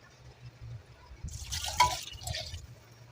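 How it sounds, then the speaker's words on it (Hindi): Water is poured into a pot of mutton stew, producing a brief splashing gush that swells in the middle and fades, close by with a faint low hum underneath. "2 से 3 गिलास पानी डालकर हम"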